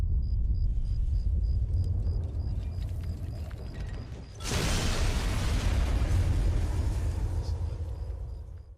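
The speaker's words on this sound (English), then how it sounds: "You can use this formula to get all kinds of explosion sounds just from a simple recording." A redesigned explosion effect for Super Mario 64 begins with a low, rumbling body and a faint tonal ring. Midway a sharp, bright blast erupts and its deep low end rolls on and slowly decays.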